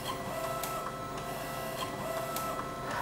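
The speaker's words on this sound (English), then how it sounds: "we can actually see the printer printing" A P700 printer running a four-metre panoramic colour print on roll paper gives off a steady mechanical whir with faint, regular clicking and shuttle-like ticks. The sound is close and continuous throughout.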